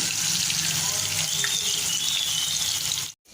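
Potatoes frying in oil give a steady, close hiss and crackle of sizzling that holds evenly, then cuts off abruptly just before the end.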